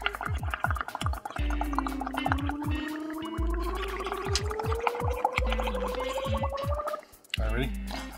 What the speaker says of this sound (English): you're just blowing and blowing and bubbling, and the bubbles build up